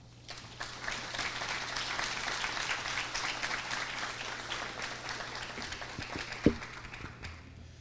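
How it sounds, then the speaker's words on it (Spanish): Sustained applause from a sizable crowd at a seminar opening fills the clip, steady throughout, with one sharp louder clap or knock near the end. "les pido por favor que recibamos con fuertes aplausos"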